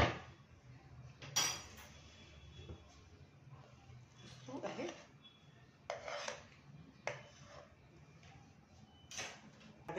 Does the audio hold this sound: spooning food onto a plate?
yes